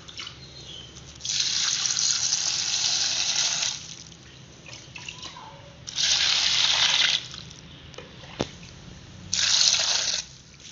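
Kangkung (water spinach), split in half, is washed under a running tap for a stir-fry: three long bursts of gushing, splashing water separated by quieter gaps with faint dripping and handling.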